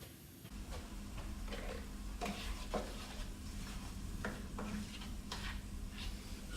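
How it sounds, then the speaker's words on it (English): Onions frying for beef empanadas are stirred in a pan, a low, faint sizzle with a steady series of scraping strokes and light clicks from the utensil. "Let's go back and stir those onions."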